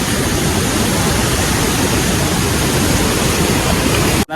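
A river swollen by floodwater after dam gates were opened roars as a loud, dense, unbroken rush that fills the whole clip. No voices are heard over the water.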